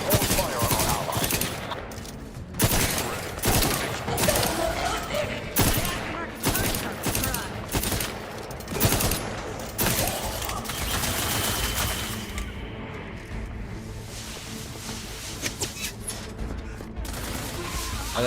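Rapid bursts of automatic gunfire and explosions crackle loudly through a video game battle, near-continuous volleys with brief lulls, under occasional talk and game voices.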